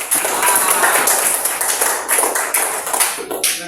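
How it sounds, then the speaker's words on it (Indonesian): An audience at a school coaching and supervision session bursts into applause: dense, lively clapping from many hands, close and sustained for a few seconds before tapering off at the end. "Coba beri tepuk tangan dulu untuk kita semua."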